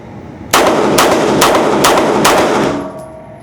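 A 2011-style pistol on a shooting range fires about five loud, close shots in a fast, even string, with a short ring-out after the last one.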